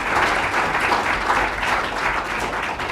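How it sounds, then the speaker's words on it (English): An audience at an international conference on combating piracy applauds its panelists, a dense, steady burst of clapping from many hands in a hall, loud and sustained for a few seconds. "one last round of applause for our panelists"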